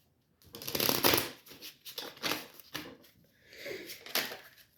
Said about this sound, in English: They're pretty shuffled, but let me just give it a little shake.